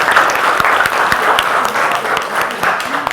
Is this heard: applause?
yes